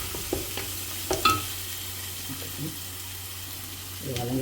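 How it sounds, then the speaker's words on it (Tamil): Masala sautés in oil for Andhra-style fish curry, a low, steady sizzle with a few soft stirring clicks near the start and a slightly louder rustle at the end. "நல்லா வதங்கிட்டு தூக்கி போடணும். எண்ணெய் பிரிஞ்சு வந்துடுச்சுன்னா"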